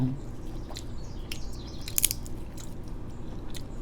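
Tough beef leg meat from a cassia leaf curry is chewed up close with a steady run of moist, crunchy bites, while faint bird chirps sound in the background.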